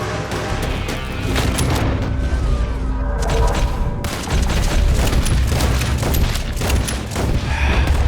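Dense gunfire in a Red Dead Redemption 2 shootout, with rapid overlapping rifle and pistol shots and heavy booms, loud and continuous with a brief lull midway.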